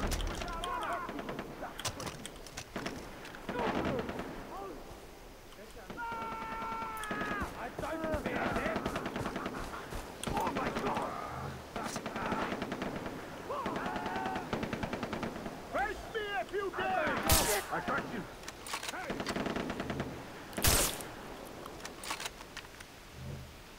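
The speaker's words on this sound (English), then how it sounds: "They're just gunfighting it up." Gunfire from a gunfight in the video game Far Cry 3 crackles in repeated bursts and single shots, some loud and sharp, mixed with game sounds and a voice talking over it.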